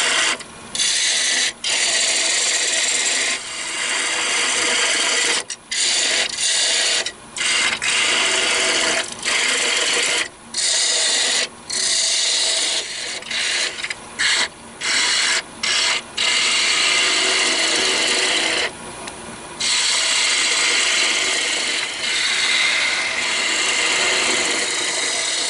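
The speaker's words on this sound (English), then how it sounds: "Back to the spindle gouge to make" A spindle gouge cuts a spinning workpiece on a wood lathe, giving a loud, harsh scraping hiss in repeated passes broken by short pauses, with no talk.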